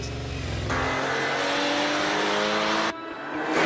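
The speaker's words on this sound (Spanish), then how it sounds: "Conducir un 911 original es algo único. Es un coche de motor trasero" An original rear-engined Porsche 911 drives by loudly, its engine rising and then holding a steady roar before briefly dropping and building again.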